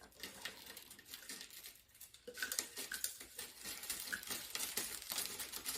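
Garlic cloves sautéing in a pan with scattered crackles and clinks of a utensil against cookware, moderately close, steady busy texture growing denser after a brief quieter moment.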